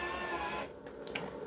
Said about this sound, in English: Now let's see if it helps by putting up this Versa bed a little bit. So this retracts back